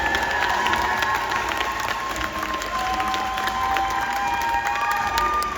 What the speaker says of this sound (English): a big round of applause for our graduates from the Extensive Support Needs Program.